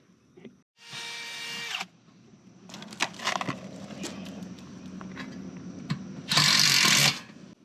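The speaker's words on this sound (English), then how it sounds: "We're gonna go ahead and drill in here and set it." A power drill whirs in two short, loud bursts, with clattering, knocking and rustling handling noises between them nearby.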